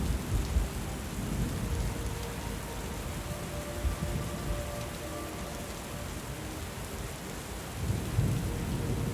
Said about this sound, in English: I do really like the sound of the rain, but it is drowning out the music a little bit for me.